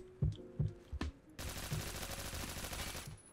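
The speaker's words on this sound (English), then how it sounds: "that's definitely an enemy shooting at me" In the Phantom Forces video game, enemy gunfire sounds as a few sharp separate shots and then bursts into a dense, loud rattle of rapid fire that runs for about two seconds.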